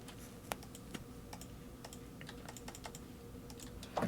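Rapid clicking keystrokes on a computer keyboard in a quiet room, irregular taps spread across the whole stretch with no voices.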